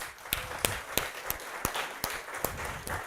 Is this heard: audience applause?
yes